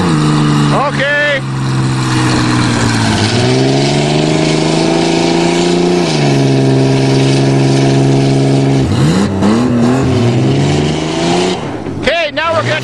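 A Ford Ranger and a Dodge Dakota pickup strain against each other in a tug of war, their engines droning loud and close, pitch climbing and falling as they rev hard, with a final burst of revving near the end.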